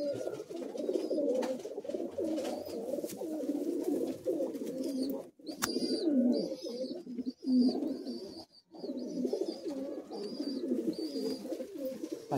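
Pigeons coo continuously in low, rolling, overlapping calls, close and steady, with a few brief pauses and faint higher chirps in the background.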